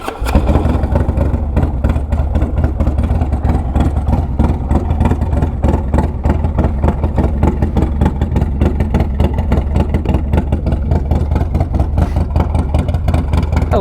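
A motorcycle engine drones steadily during a ride, a loud, constant rumble with a fast pulsing beat and wind noise, no voices.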